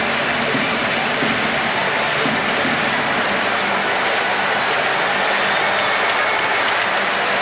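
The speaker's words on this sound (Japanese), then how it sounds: "そして日本ハムの選手も拍手で称えています。" Stadium crowd and baseball players applaud at a 2009 Rakuten Eagles versus Nippon-Ham Fighters game honouring manager Nomura. The steady, loud clapping and crowd roar fill the whole stretch.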